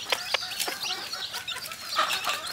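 Native hen with ten newly hatched one-day-old chicks, giving soft repeated clucks over a steady bed of high chick peeping, close by with no talk.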